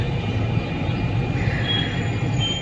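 A metro train runs along an elevated line in Kolkata, heard as a steady, loud rolling rumble with a faint high wheel squeal drifting over it, without any speech.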